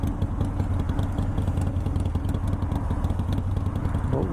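A motorcycle rides on a road on a Saturday morning, its engine throbbing in a fast, even pulse, close and fairly loud with no voices.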